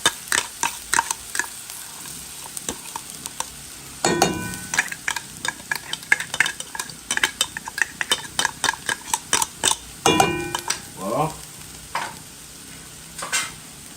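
Canned beef frying in a pan, stirred with a utensil that knocks and scrapes in quick irregular clicks over a low sizzle, close by with no voices.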